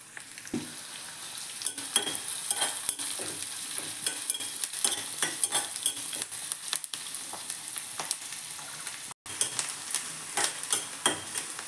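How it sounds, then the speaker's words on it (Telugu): Sliced big onion frying in a little oil with biryani whole spices in a hot pan, a steady close sizzle broken by frequent scraping stir strokes throughout, with no voices. "ఆనియన్ అంతా వేగిపోయింది కదా,"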